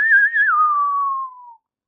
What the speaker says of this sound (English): I can normally whistle